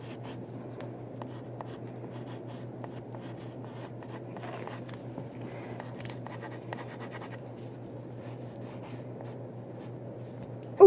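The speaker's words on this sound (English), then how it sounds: "just try and draw Morty, I guess" Pen or pencil scratches across paper in a drawing sketched without reference. The soft, close strokes come in short runs over a low background hum.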